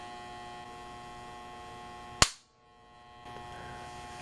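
A Fluke 107 handheld multimeter under a failure test gives a sudden sharp crack over a steady electrical hum, which cuts out briefly and then slowly returns.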